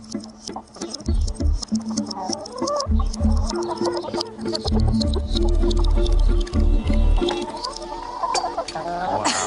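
A flock of chickens with a rooster clucks and calls excitedly in a busy, overlapping chorus, loud and close, with dense cackling bursts throughout and no speech.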